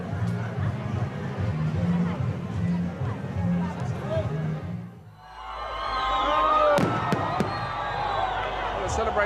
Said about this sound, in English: they're ending with a huge party, fireworks, and Russian pop stars